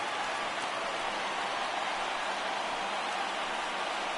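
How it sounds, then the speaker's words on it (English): Rain falls steadily during a baseball game, a constant, even hiss of rainfall with no breaks or changes. "The rain coming down as it is, we are in for a long delay."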